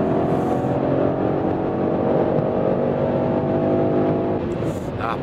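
A BMW M850i xDrive V8 coupe's engine drones steadily as it picks up speed, heard from inside with road and wind noise and a voice talking over it.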